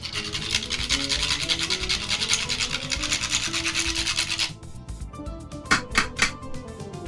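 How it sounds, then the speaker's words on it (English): A cinnamon stick is grated over rice pudding: a steady rhythmic rasping scrape for several seconds, then a few sparser scrapes and knocks, close and clear. "as a final garnish, you can grate some cinnamon on top of it"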